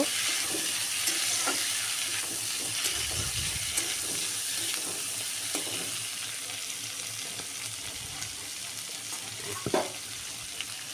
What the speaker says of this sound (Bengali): পেঁয়াজ রসুন শীতলগুলোকে দিয়ে দেব দিয়ে দিলাম এখন এগুলোকে একটু নাড়াচাড়া করে নেব